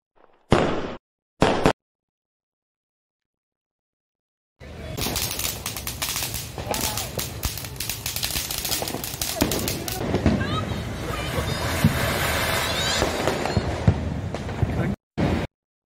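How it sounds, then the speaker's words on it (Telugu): Diwali firecrackers burst in city streets: a couple of sharp isolated bangs, then, after a pause, a long dense barrage of rapid crackling explosions at fairly close range, ending with one last pop. "రోడ్లపైకి వచ్చి టపాసులు కాల్చి సందర్శిస్తారు. టపాసుల మొదతో నగరమంతా మార్మోగిపోయింది."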